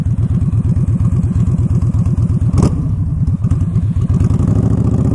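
A Yamaha Stryker motorcycle engine runs close by, a loud steady rhythmic chug of rapid low pulses with a brief clatter midway.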